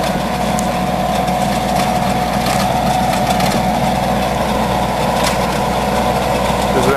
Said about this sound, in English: It's about a 48-inch tiller, and it's on a 35-40 horsepower Kubota.